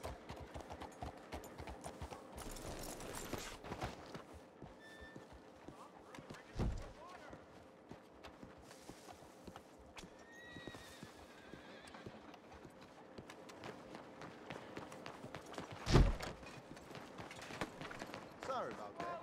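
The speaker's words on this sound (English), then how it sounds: "Good old horse." Steady clip-clop of horse hooves plods along with a snort and whinny in Red Dead Redemption 2, while music and voices carry underneath.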